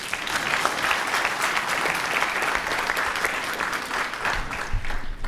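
Audience at a Pan-African youth summit applauding President Museveni, a sustained round of clapping from a large room that holds steady throughout and tapers slightly at the end.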